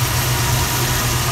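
A 1970 Dodge Challenger's 440 C-body V8, fitted with an L-block intake manifold, idles close by with a steady, even low rumble and constant hum, no revving and no voices.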